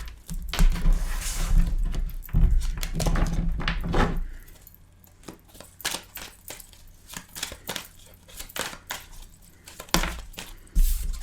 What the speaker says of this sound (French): Donc on va remélanger les cartes.